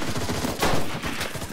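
Rapid machine gun fire in the World War II shooter Enlisted, sustained bursts of close, loud automatic shots with a heavier swell midway and no talk.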